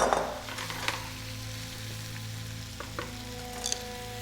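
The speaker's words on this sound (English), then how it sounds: "Now we're going to add the onions and the mushrooms." Onions and mushrooms frying in a pan for Korean jjajangmyeon give a steady low sizzle, with a few faint clinks of a utensil against the pan near the start and again toward the end.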